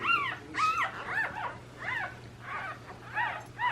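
A small puppy whimpers and yips in a string of high, wavering cries, close and clear over a low steady hum, on a ski trip.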